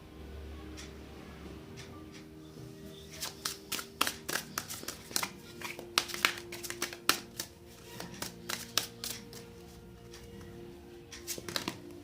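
Tarot cards being shuffled by hand, a rapid series of close, crisp riffles and slaps in irregular clusters, fairly quiet, with no speech during the shuffling.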